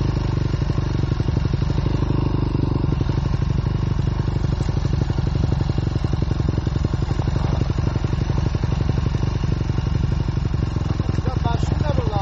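An enduro motorcycle engine runs steadily and loudly close by for the whole stretch, with a rapid pulsing rumble and some clattery texture.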